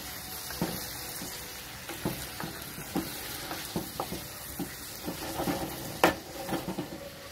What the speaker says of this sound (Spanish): vamos a dejar que se sofría, siempre moviendo de rato en rato